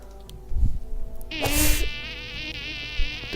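A queen bee boss in a video game buzzes with a sharp, whining insect drone that swells suddenly and holds steady, loud and close over a low game background.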